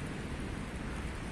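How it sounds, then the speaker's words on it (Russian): Rain falls outdoors as a steady, dense hiss of drops across the whole moment, fairly loud and unbroken, with no voices. "Дождь начался."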